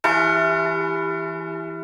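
A single bell sample for a music track strikes once, clear and ringing with rich overtones, then sustains and slowly decays on its own.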